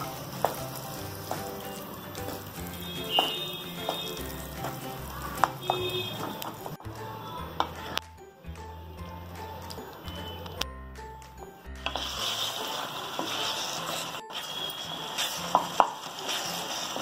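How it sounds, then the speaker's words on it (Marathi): Carrot halwa with mawa is stirred in a pan, with a continuous soft sizzle and intermittent scraping strokes, a short lull midway and then steady stirring again, close and moderately loud. "आता आपण हा मावा टाकून पुन्हा परतवून घेऊयात"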